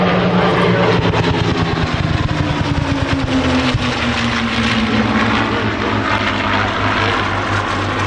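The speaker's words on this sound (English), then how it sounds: "fighter making pass now. P-51 Mustang." A P-51 Mustang fighter makes a low, fast pass at an airshow. Its propeller engine roars loudly and steadily throughout, and the pitch slides downward as the plane goes by.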